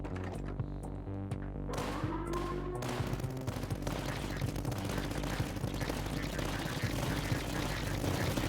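In the tower-defense game Tower Dominion, bunker turrets fire on enemies in a dense, continuous rattle of rapid gunfire, with sharp cracks piling up over a low rumbling bed.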